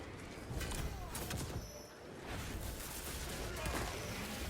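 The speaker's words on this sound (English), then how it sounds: "There are a lot of machine gunners here." Enemy machine gun fire in the video game Space Marine 2, a dense continuous clatter of rapid shots and impacts under steady battle noise, briefly dipping before resuming.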